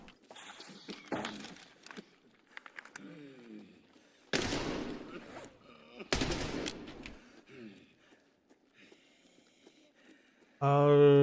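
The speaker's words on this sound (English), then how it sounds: "How many times I gotta shoot this man?" Gunfire in Escape from Tarkov (SPT) snaps out in a few sharp, loud bursts between quieter stretches, while someone talks throughout.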